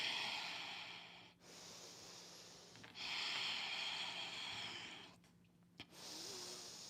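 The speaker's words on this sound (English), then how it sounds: "moving that breath through the nose" Slow, deep nasal breathing during a hip rotation stretch, with long airy inhales and exhales in a steady rhythm, close and soft over quiet background music.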